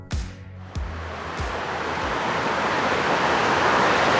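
A rushing waterfall in the Lake District makes a continuous broadband roar that swells steadily after a few thumping bumps at the start, close and strong with no talk.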